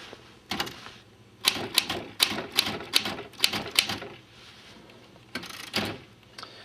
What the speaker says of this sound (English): And the typewriter really is the that's the jewel of it, and it's a working typewriter. It still operates, so you hit the keys.